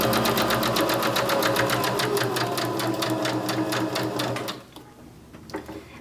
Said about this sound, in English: as you send it to the machine